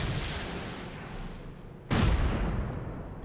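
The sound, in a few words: rocket fire and explosions in the video game Rust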